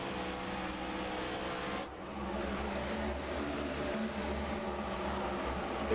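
Race car engines in a sim racing video game, a steady loud drone with a brief dip as a driver lifts off the throttle, then a resumed constant roar.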